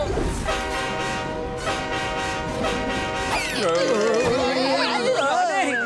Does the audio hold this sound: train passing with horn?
yes